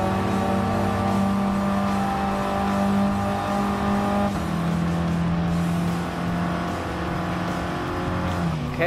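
An old first-generation Mini Cooper racing in Gran Turismo Sport: a steady, loud engine drone with shifting pitch as it holds revs, changing tone partway through and rising again at the end.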